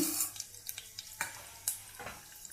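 Cumin, mustard seeds, chana dal and urad dal sizzle in hot oil, a quiet, close crackle broken by a few sharp spatters and stirring scrapes.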